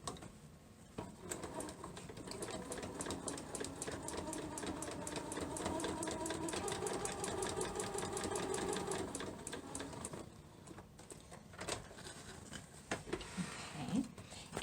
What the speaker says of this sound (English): So I'm just going to stitch right on the line itself.